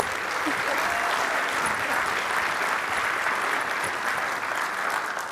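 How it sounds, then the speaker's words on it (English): Sustained audience applause fills a manufacturing conference hall, a dense, steady wash of many hands clapping at even loudness throughout with no break. "Let's give him one more round of applause."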